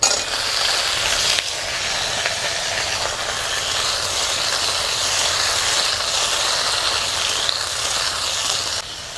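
Sliced ridge gourd hits a frying pan of hot oil with fried garlic and green chilies, setting off a loud, continuous hissing sizzle that fills the whole stretch without voices.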